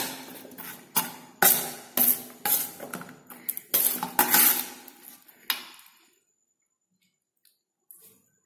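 A spoon stirs and scrapes through a thick spice mix with mustard oil in a bowl for eggplant curry, close wet clinks and squishes in an uneven rhythm for about six seconds, then near silence with one last tap.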